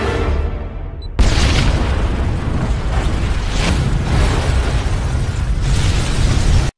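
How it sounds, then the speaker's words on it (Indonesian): A massive, roaring explosion of a bomb in a warehouse bursts in suddenly after a second of rumbling, then a loud, sustained blast and crackling debris fill the rest. "menyebabkan ledakan besar di seluruh gudang."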